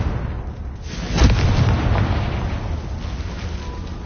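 A Confringo fire spell exploding in Hogwarts Legacy, a single sharp blast after about a second, followed by a crackling, rumbling tail that fades slowly, with no talk.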